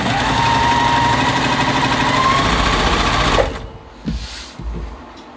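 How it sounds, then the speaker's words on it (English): A sewing machine runs at a fast, steady hum while quilt blocks for a nine-patch quilt are sewn together with a quarter-inch seam. It stops after about three seconds, followed by a few faint handling bumps. "and then sew them together using the 1/4 inch seam."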